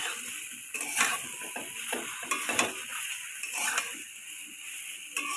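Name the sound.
stirring jujube pickle in pan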